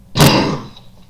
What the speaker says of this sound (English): Excuse me, bit of a cough.